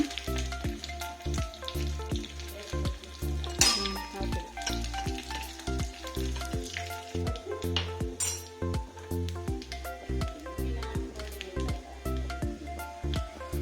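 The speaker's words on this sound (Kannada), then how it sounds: "ಒಗ್ಗರಣೆಗೆ ತೆಂಗಿನೆಣ್ಣೆ ಹಾಕ್ತಾ ಇದ್ದೀನಿ ಸ್ವಲ್ಪ ಸಾಸಿವೆ ಬೆಳ್ಳುಳ್ಳಿ ಕರಿಬೇವು ಹಾಕಿ ಸ್ವಲ್ಪ ಕೆಂಪಿಗೆ ಹುರ್ಕೋಬೇಕು" Mustard seeds, garlic and curry leaves frying in coconut oil for a tempering, a close, steady sizzle with rapid crackling pops and occasional clinks of a stirring spoon against the pan.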